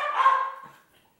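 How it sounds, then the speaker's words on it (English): Dogs barking at each other: a bark rings out, then trails off into quiet, with faint yips in the background. "Do you guys hear the barking match going on?"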